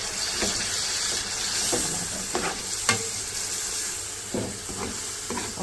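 Tomato puree sizzles as it goes into fried masala with separated oil, a loud steady hiss broken by sharp spoon scrapes and stirring knocks against the pan.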